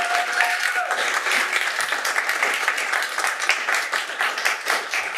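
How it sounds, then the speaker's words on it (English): A city council meeting audience applauds, dense rapid clapping from many people filling the room continuously for several seconds without a break. "You can clap. I don't have a problem with it."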